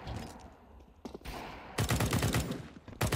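Rapid automatic gunfire from Counter-Strike 2 rattles in loud, dense bursts, with a quieter stretch of scattered shots before a sustained volley and a final burst at the end.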